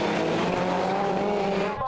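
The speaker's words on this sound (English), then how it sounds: "Steve Bundy, that self-built Focus going well." Rallycross cars race at Lydden Hill during the 2012 British Rallycross round, including a self-built Ford Focus, with loud continuous engine roar and tire noise from close by, fading slightly at the end.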